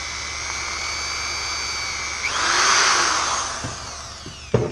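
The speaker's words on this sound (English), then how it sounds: "we have a 1/4 inch bit chucked up into a drill" An electric drill with a 1/4 inch bit whines steadily, then bites into material and its pitch drops into a strained grinding, ending with a sharp clunk.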